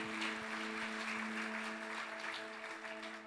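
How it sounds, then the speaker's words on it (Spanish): A church congregation claps for the Lord during a service, a faint, steady patter of applause under a sustained organ or keyboard tone. "Denle un aplauso al Señor."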